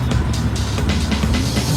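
Race cars in an estate car race rumble loudly together behind the pace car, a dense continuous engine drone with no gaps.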